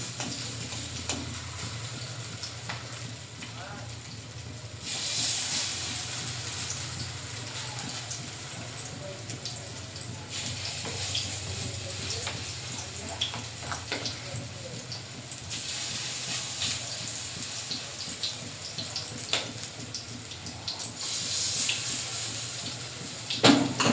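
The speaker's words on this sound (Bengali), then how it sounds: "বড়াগুলো এভাবে ভেজে নেব।" Steady hissing sizzle of mustard-flower fritters frying in hot oil in a village kitchen, continuous and fairly even, with faint clinks and background noise throughout.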